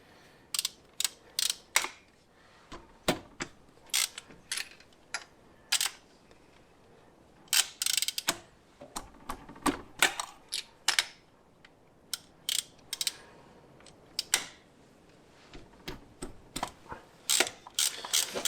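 Ratcheting wrench clicks in quick irregular bursts while spark plugs are undone on a Morris 1300 engine, sharp close mechanical ticks with short gaps and no speech.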